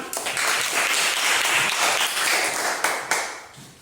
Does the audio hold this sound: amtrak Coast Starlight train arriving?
no